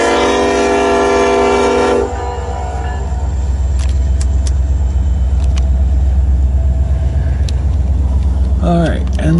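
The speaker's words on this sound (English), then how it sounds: "this will be my last train for the evening" An eastbound freight train rumbles past loud and close in Fremont, Nebraska, with a sustained horn blast at the start giving way to steady rolling wheel noise, a few squeals and clanks, and faint talk underneath.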